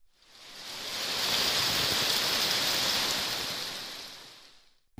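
Heavy rain shower in the Yeşilyurt neighbourhood of Erzurum, a dense, steady broadband hiss that swells in the middle and fades at the ends, with no voices.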